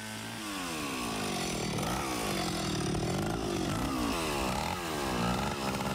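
A chainsaw runs continuously and loudly, its engine pitch rising and falling as it revs while cutting.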